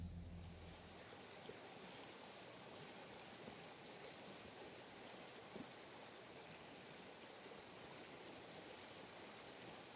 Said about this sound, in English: I've got a creek right next to me, so I'll be able to go to bed listening to the sound of the water.